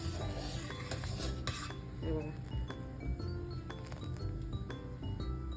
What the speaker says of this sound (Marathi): सारखं त्याला ढवळत राहायचं आहे